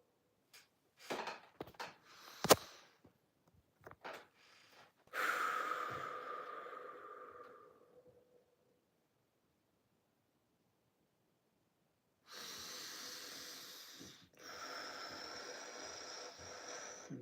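Heavy, audible breaths during a somatic meditation: a few sharp sniffs and snorts, then a long drawn-out exhale, a pause of near silence, and more breathy rushes, all close and soft.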